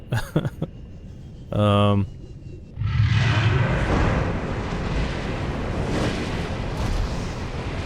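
A creature in the Subnautica video game shoots fire, a loud rumbling roaring blast that swells and sustains after a brief tonal game sound, with no talk over it.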